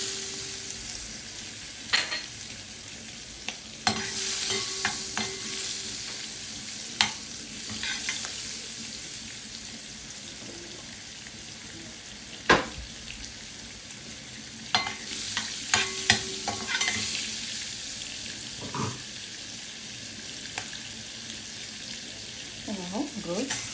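White rice sautéing in butter in a pan, a soft steady sizzle broken by several sharp stirring scrapes and clinks, close up with no talk.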